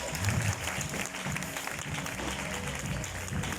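A congregation at a graduation ceremony breaks into sustained applause, a dense wash of clapping with a few voices mixed in, steady at a moderate distance.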